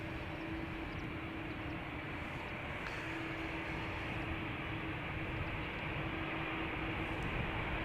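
Jet airliners at Amsterdam Schiphol Airport give off a steady, distant broadband roar with a constant engine whine, unbroken and without speech.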